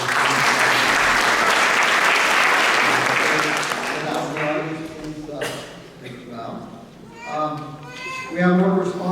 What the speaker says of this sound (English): please give a round of applause to Jenny Poe and Teresa Cuellar.